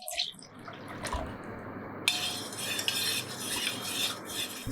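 A spoon clinks and scrapes against a metal vessel as amla juice is stirred into a cooled syrup mixture for a summer sherbet. The stirring is close and steady, with light liquid swishing.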